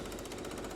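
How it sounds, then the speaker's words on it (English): Jackhammers pound at a construction site in a steady, dense rattling drone, faint and distant, with no voices over it. "the background noise is going to be the hammering and their jackhammers"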